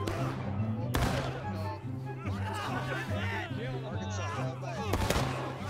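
Cannon fire in the video game War of Rights, two sharp loud booms about four seconds apart over a steady tonal drone, with chatter and laughter running through the clip.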